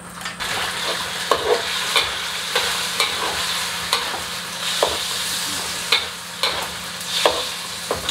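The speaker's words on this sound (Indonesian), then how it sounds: "ini kita mau masak chicken dish, cuma pakai penggorengan aja sama minyak sedikit" Chicken fries in a pan with just a little oil, a loud, constant sizzle punctuated by regular scraping and clacking stirs of a utensil against the pan, with no talking.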